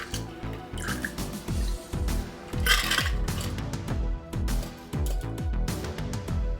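A cocktail strained onto fresh ice in a glass gives a steady close trickle and patter of liquid over ice, with irregular clinks and drips, moderately loud and without talking.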